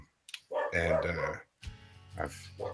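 A dog barking and growling in short bursts, close by, with a voice speaking in between.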